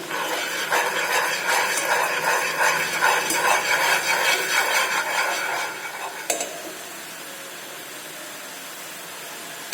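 Chicken being stirred in a lemon butter sauce in a pan, a steady run of clattering scrapes and knocks for about six seconds, then a single sharp knock before the sound quiets to a low background.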